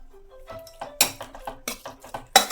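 Leftover mixed vegetable sagu goes into a pan of hot tempering: a run of sharp metallic clatters and scrapes of a spoon against the pan, some louder knocks spaced irregularly, with faint sizzling beneath.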